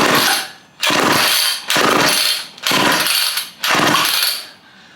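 A seized chainsaw revived without new parts revs its engine in five loud, close bursts of rasping buzz, each rising and falling as the throttle is worked, with no voices.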